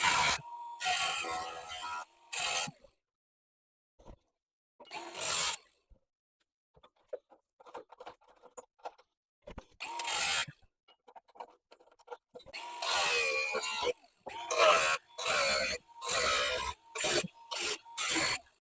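Rusty metal is cut from a Vauxhall Nova GTE chassis in a series of harsh, rasping bursts of varying length, separated by near silence, with a rapid run of short cuts toward the end.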